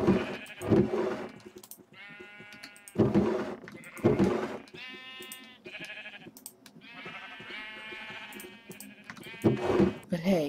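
Sheep in a video game bleating repeatedly, several loud, wavering bleats in a row with short gaps between calls and no talking over them.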